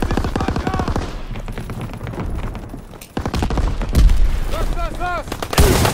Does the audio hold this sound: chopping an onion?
no